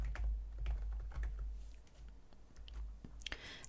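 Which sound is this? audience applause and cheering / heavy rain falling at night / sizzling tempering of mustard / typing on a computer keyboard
typing on a computer keyboard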